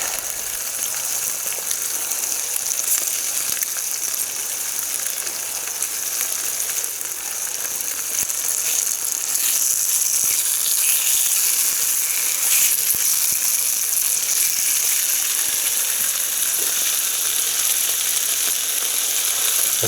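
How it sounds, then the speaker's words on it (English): Back bacon, middle cut with the rind on, frying in a pan on a gasifier wood stove, giving a steady, close, broadband sizzle and crackle that holds for the whole stretch with no talking. "There's nothing nicer than the smell of frying bacon."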